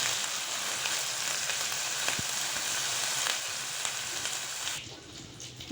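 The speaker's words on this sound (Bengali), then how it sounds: "একটু 1 মিনিট ভাজবো।" Garlic and ginger paste sizzles in hot oil in a pan, a steady crackling fry with a brief stirring knock midway, close and continuous with no talk.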